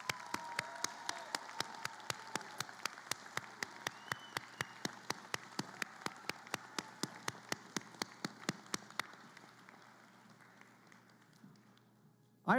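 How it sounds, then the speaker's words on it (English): Graduation ceremony crowd applauding the graduates' supporters: dense clapping across the hall with sharp, steady single claps standing out near the microphone, gradually thinning and fading toward the end. "Graduates, I ask you to join us all of us, in a round of applause for those important people in your life"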